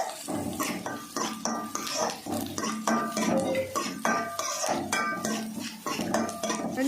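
Green chillies are stirred in a metal pan for tomato thokku, a quick irregular run of loud clanks and scrapes as a spoon knocks against the pan, close by with no talking.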